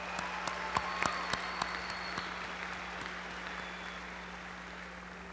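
A crowd at a livestock show's supreme champion ceremony applauding steadily, a dense patter of many clapping hands with a few sharper claps near the start, gradually thinning out.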